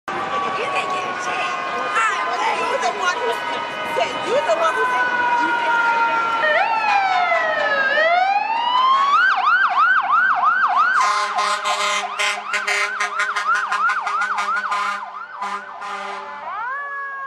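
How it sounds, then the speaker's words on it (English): Fire engine sirens wailing and yelping in rising and falling sweeps, several overlapping tones that switch to a fast warble and then pulsing horn blasts, loud and continuous throughout a children's story reading. "the firemen jumped onto the fire engines and onto the hook and ladders"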